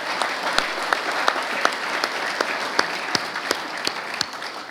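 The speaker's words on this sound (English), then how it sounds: "So I want to give you a round of applause." At a city council meeting, the audience applauds the police department with steady, moderately loud clapping where individual sharp claps stand out within a light, even wash.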